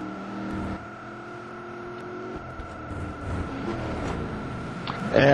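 Race car in a racing video game at Hockenheim accelerating out of a corner onto the main straight, engine tone climbing steadily and growing louder toward the end, with faint whirring underneath.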